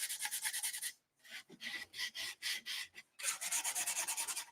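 Light sanding with 220-grit sandpaper along the edge of painted furniture, distressing the finish: steady rhythmic back-and-forth rasping strokes, close and fairly loud, pausing briefly before resuming at a quicker, even pace.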